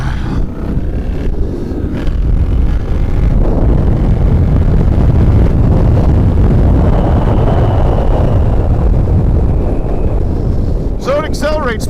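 Triumph Bonneville T120 motorcycle with 17-inch alloy rims, its engine roaring loudly and steadily under acceleration for the whole stretch, with brief talk near the end.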